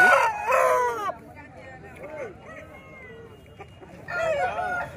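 Roosters crow loudly at the start and again near the end of a busy poultry market, with clucking hens and other chickens in between and people talking nearby.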